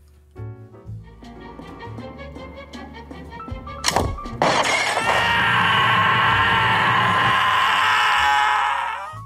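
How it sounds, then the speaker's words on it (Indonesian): A gunshot in a film scene shatters a drink bottle: a sudden loud crack and burst, then a dense, sustained wash of sound that stays loud to the end. "akhirnya Ivan menembak ke arah botol minuman yang saat itu disimpan"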